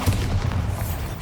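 A Bombarda spell explosion in Hogwarts Legacy, a short, deep booming blast with a rumbling low body, loud and close, heard alone.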